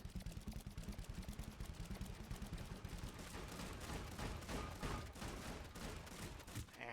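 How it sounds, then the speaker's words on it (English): Rapid bursts of gunfire from shooting in a video game with a hallway mob-spawning challenge, loud and continuous, overlapping with engine-like drone throughout. "And I was already shooting"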